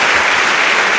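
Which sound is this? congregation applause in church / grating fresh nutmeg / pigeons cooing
congregation applause in church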